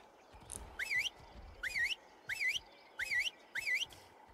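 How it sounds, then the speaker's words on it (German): A character in the survival game Ark: Aberration whistles through binoculars. Five short rising whistles come in an even rhythm, clear over faint background ambience. "Ist ja nur gut, dass man durchs Fernglas pfeifen kann."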